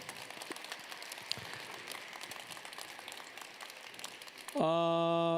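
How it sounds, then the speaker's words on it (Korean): An audience applauds performers of a traditional Korean sanjo improvised dance with dense, sustained clapping for several seconds until it is cut off by a loud, steady tone. "다시 한번 우리 출연자분들께 다시 한번 뜨거운 박수 부탁드릴게요."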